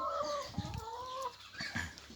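Laying hens in cages cluck and squawk in short, overlapping bursts, fairly close and clear with no talking.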